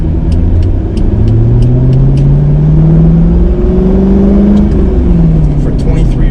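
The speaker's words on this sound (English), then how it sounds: "it does have a Corsa on it, Corsa exhaust, but gosh, this thing sounds wonderful" A Corvette fitted with a Corsa exhaust drives close up, its engine droning loudly and rising in pitch through the gears, with shifts between pulls and a person talking over it.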